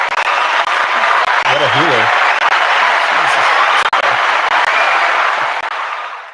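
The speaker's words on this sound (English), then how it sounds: "Can we get an applause for that, man?" A studio audience applauds loudly and steadily after a remarkable story about a newborn bull, the clapping filling the whole stretch and tapering off at the end while a voice speaks over it.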